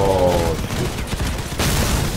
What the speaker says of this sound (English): Oh, fucking grenades!